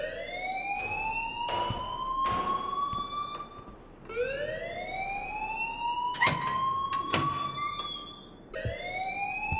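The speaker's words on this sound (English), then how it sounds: "please turn off that alarm since that's your job" A fire alarm in the Life is Strange video game wails with repeated rising tones, each lasting about two seconds, loud and continuous without talk.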